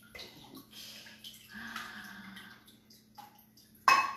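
Water pours into a container holding rose petals for homemade rose water, a wavering trickle and splash that swells and fades, then ends in a louder, close gush, with no talking.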